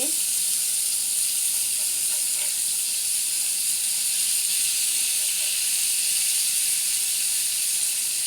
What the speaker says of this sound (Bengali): আর মাছ ভেজে ফেলতেছি সহজভাবে, তাড়াতাড়ি যাতে রান্নাটা হয়ে যায়।